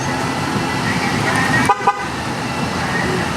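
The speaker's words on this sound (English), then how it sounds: "that horn beeping at us like that is letting us know we got a problem" Horn of a 2016 Dodge Ram Limited truck beeping a warning, two short sharp honks in quick succession close by, over a steady engine and background noise.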